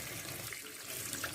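Water from a tap runs in a steady, soft splashing stream into a bucket while pumpkins are washed, faint and continuous throughout the short moment.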